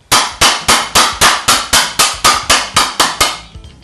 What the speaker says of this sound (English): Chiseling is done from the edge of the trench to the middle.